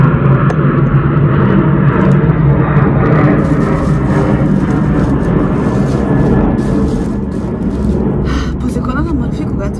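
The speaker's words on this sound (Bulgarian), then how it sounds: "когато решиш да снимаш видео и живееш близо до летището, винаги когато почнеш да снимаш, ще мине самолет" An airplane passing low near an airport, a broad engine rumble and roar that fades slightly toward the end, heard under someone speaking in Bulgarian.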